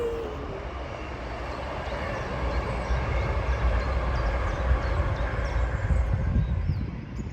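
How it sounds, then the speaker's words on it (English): A low, steady rumble of a passing train that grows gradually louder and holds, heard from some distance outdoors from a boat. "And another train!"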